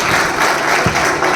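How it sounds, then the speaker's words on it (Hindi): An audience applauds at a function, with dense, loud clapping sustained through the whole short stretch. "दोस्तों एक बार जोरदार ताली हो जाए अभिषेक सर के लिए।"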